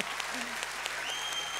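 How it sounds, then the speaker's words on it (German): Live stage show audience clapping, fairly quiet and sparse with a few distinct claps over a steady background hum and a faint high tone. "Applaus, dass Revi noch mal reinkommt, bitte"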